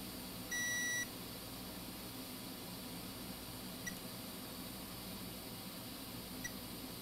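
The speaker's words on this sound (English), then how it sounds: "Meter in diode mode." A multimeter set to diode mode gives one clear electronic beep about half a second long near the start while probing a 2021 MacBook Pro logic board for a short, followed by quiet hiss and a couple of faint ticks.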